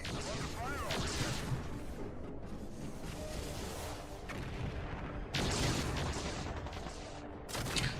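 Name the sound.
weapon fire in MechCommander 2 video game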